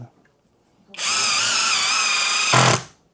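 A Kale Pro brushless cordless impact drill whirs loudly and steadily for about two seconds, close up, then briefly shifts into a heavier impacting burst before stopping; no talking.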